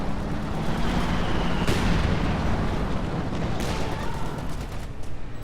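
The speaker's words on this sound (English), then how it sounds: "They needed that walking Stuka desperately" A walking Stuka rocket artillery barrage in Company of Heroes 2 sets off dense, rumbling explosions in a continuous roar, with sharp bursts standing out above the steady loud blast noise.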